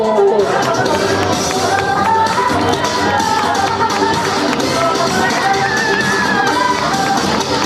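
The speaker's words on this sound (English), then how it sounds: "Big cheer at the finish line." Crowd noise at the Mississauga Marathon finish line, a steady broad roar of cheering spectators that holds loud throughout, with a voice over a loudspeaker running on top.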